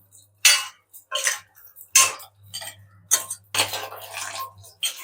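Crab masala gravy being stirred in a pan, a spoon scraping and knocking against the metal in short, irregular strokes, close and fairly loud with pauses between.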